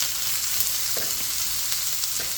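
Garlic and onion frying over high heat in a beef stir-fry, a continuous close sizzle with a few faint stirring knocks, no voices.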